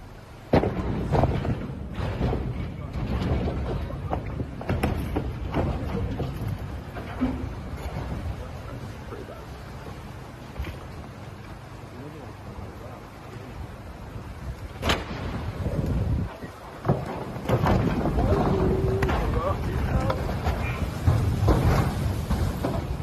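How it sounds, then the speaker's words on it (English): A flooded, overflowing river roars loudly and continuously, with occasional dull thuds and knocks of debris in the rushing current and gusts of wind across the microphone. "he decided to film the overflowing body of water"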